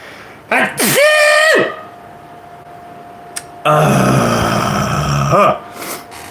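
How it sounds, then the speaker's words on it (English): A loud, close sneeze with a voiced wind-up, followed later by a longer noisy burst and a short vocal sound. "I'm gonna sneeze"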